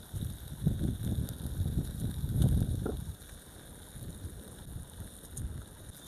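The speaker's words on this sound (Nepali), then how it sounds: "हेर्नु त कस्तो हावा चल्यो हो" Wind gusting outdoors at a picnic, with buffeting rumbles against the microphone that swell and fade, strongest in the first half and settling into a low, steady blow afterward.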